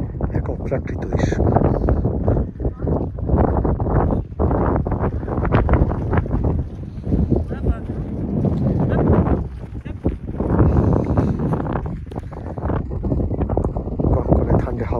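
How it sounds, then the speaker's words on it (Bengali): Freezing cold wind gusting steadily across a high Swiss Alps mountainside, buffeting the microphone loudly and continuously throughout, with a person talking over it. "কনকনে ঠান্ডা হাওয়া শুনতে পাচ্ছেন"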